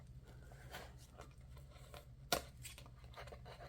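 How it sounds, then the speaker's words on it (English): A few soft snips of giant scissors cutting paper for a pink journal, with one sharper, louder cut partway through, close and quiet over a low background hum. "Or with giant scissors, because I'm too lazy to get up and get my other scissors."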